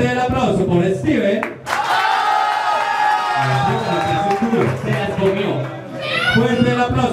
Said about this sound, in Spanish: Fuerte el aplauso por Steven.